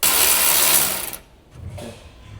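An electric impact wrench with a 10 mm shallow socket spinning out radiator fan bolts on a 2006-2015 Honda Civic, a loud close mechanical whir and rattle lasting about a second, then a brief fainter burst.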